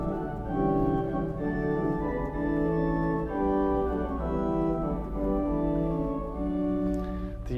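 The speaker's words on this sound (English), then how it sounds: "And an open flute, 2 foot." A 2-foot open flute stop on a large five-manual Austin pipe organ plays bright, sustained notes and chords that shift gently, steady and resonant with no voices.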